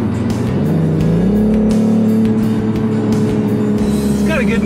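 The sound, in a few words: exhaust note of a 2021 BMW M440 in sport mode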